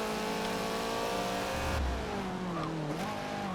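Sport compact car engines snarl and rev hard in a Forza Motorsport 7 car chase through Chicago's Lower Wacker Drive, with a low thump midway, engine pitch shifting down and back up, and tires squealing.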